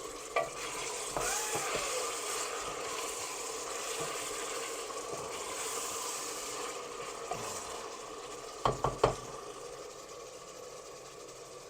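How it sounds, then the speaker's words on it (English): Green chili paste being stirred into haleem in a cooking pot, soft scraping and gentle sizzling throughout at low level, with a few sharper clinks of the spoon near the end and no talking. "mix it very well"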